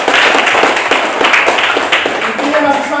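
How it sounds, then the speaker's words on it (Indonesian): A class clapping hands together, a dense run of rapid, close claps over several seconds with voices mixed in. "Mari kita tepuk tangan untuk kita."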